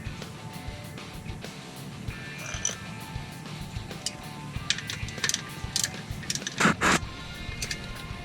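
Ratchet tightening the transmission drain plug on a 2010-2015 Camaro SS with a TR6060 gearbox, giving quiet rapid clicking in short bursts over a low mechanical background, with a few sharper metallic clacks.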